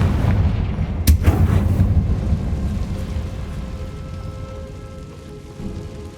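Hogwarts Legacy's Confringo fire spell goes off as a sharp, loud blast about a second in, then a crackling, rain-like roar fades slowly into a steady low rumble of game ambience.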